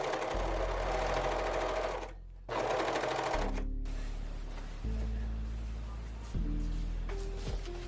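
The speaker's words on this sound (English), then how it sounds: "Now I'm going to line up the front and the back good sides together and then sew along the strap lines." A sewing machine stitching a recycled nylon swimsuit along its strap lines, running in several close, fast whirring bursts with short pauses between them.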